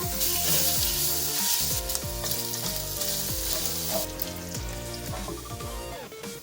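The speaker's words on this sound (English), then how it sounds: "Pan is nice and ready, so we'll add our salted pork there." Salted pork sizzles and crackles steadily in a hot pan, loud and close, with a constant frying hiss and faint utensil sounds.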